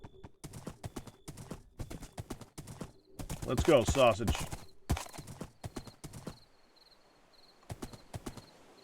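Horse hooves clip-clop in the video game Sunlit Valley, a quick rhythmic trotting that starts and stops in bursts over light game music, with a voice talking between steps.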